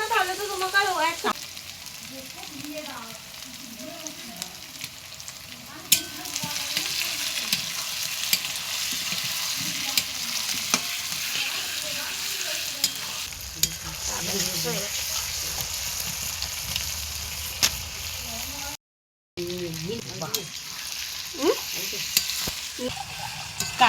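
Masala spices frying and being stirred in a pan for chicken kosha at a picnic, a steady sizzle with scraping stir strokes throughout, one brief dropout near the end, and voices occasionally talking over it.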